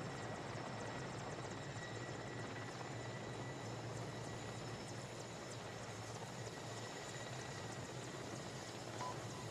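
Steady, continuous video game helicopter rotor and engine roar, constant in loudness throughout, with no voices.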